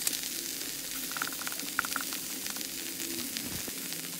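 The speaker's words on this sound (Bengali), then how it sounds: "এদিকে একটু খেয়াল রাখবেন শুটকিটা যাতে ভালোভাবে হয় ফ্রাই হয় আর কি" Shutki, Bangladeshi dried fish, fries in a pan for a shutki bhorta with jackfruit seeds, giving a steady close sizzle with faint crackles and brief pops, and no voices.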